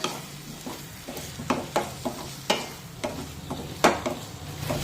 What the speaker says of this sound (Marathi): 2 मिनिटे हा बटाटा परतून घेऊया।